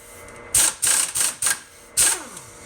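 A 32mm nut spun off the wheel hub spindle of a 2013 Nissan Pathfinder during a rear hub replacement, heard as five or six sharp, close, clattering metallic bursts in quick uneven succession with short pauses between them.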